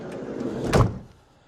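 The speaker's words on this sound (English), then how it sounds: "Just shut these doors." Van doors slam shut in a single solid thud, loud and close, with a short rumble before it and a quiet tail after.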